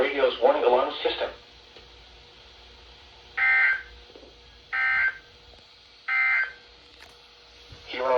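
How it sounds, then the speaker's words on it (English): A NOAA Weather Radio public warning alarm tone sounds in three steady, identical bursts of about a second each, evenly spaced, after a synthesized announcer voice speaks over the radio broadcast. "the National Weather Service has just activated the public warning alarm tone in the test"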